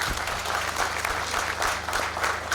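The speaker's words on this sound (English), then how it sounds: "Let's clap hands for these learners." An audience applauds steadily, many hands clapping together in a sustained, even burst of applause with a low hum underneath.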